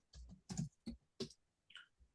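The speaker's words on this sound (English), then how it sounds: "now you can start typing content however you like" Computer keyboard typing while entering text into a WordPress classic block, a handful of separate key clusters tapped in an irregular rhythm with short pauses, close and fairly quiet, no voices.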